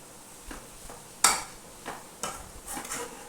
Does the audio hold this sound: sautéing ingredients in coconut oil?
yes